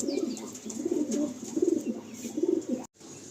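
Pigeons at a home loft in Behala coo in repeated low rolling phrases, nearby and fairly steady, with a short silent gap just before the end.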